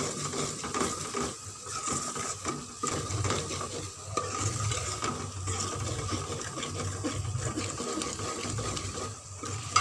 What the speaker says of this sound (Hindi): ये मसाला हमारा अच्छी तरह फ्राई हो गया है और इसका घी भी ऊपर आ रहा है।